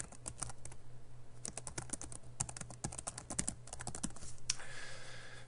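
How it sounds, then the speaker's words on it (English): Typing on a computer keyboard in a medical messaging setting, with bursts of quick, light key clicks that pause briefly between runs, faint and close with no talking. "So it's very easy just to come in here and type."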